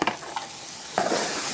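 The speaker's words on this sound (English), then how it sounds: "Let me go ahead and add the bitter melons." Bitter melon hits a hot pan for a Vietnamese stir-fry with eggs, a close, steady sizzle with a sharp burst of frying partway through and scraping stir noises.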